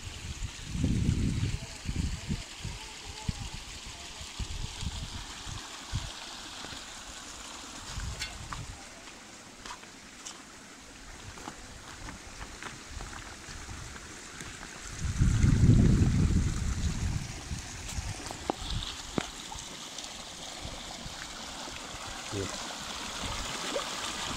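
Clear glacier meltwater stream near Amacha Glacier in the Kharmang area of Pakistan, flowing with a steady close rush of water and occasional low rumbling surges.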